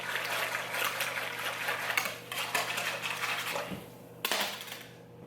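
A whisk clinks and scrapes rhythmically against a bowl while beating a yeast mixture for bread dough, quiet and close, stopping briefly before a final few strokes.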